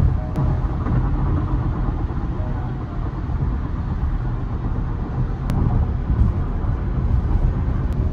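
Steady low road rumble and tire roar inside a Tesla Model Y cabin fitted with a noise reduction kit, cruising on the freeway at about 70 mph. The drone stays constant and even throughout, with no talking.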